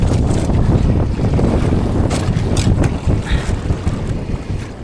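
Strong gusty wind buffets the microphone over a fishing boat's low rumble, with splashing water and surf nearby; no one speaks.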